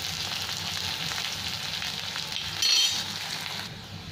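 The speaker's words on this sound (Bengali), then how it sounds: "পেঁয়াজটা একটু লাল লাল করে ভেজে নেবো।" Sliced onion fries in hot oil for kaali masoor dal, a dense continuous sizzle held close and steady, with a brief brighter crackle partway through.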